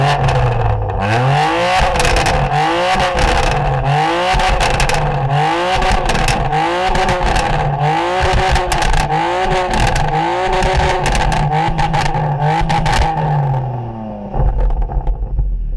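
A stock 2020 BMW M2 Competition sports exhaust revs hard and close, a rapid string of rising and falling engine pulls repeated again and again before settling toward idle at the end.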